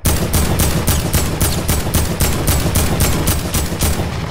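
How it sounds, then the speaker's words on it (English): Rapid automatic gunfire in Fortnite, a loud, close burst of about a dozen evenly spaced shots fired in steady rhythm with no talking. "Why did I shoot?"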